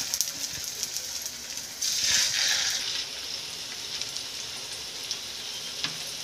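Home-made dhaba-style chicken tawa kabab pieces fry in a little oil on a hot griddle over a medium flame. A steady soft sizzle swells into a louder hiss for about a second midway, with no talking.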